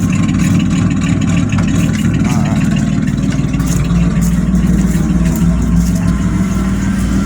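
An Acura TL's engine runs steadily at low revs while the car is being moved, giving a constant loud rumble with no pauses and no talking.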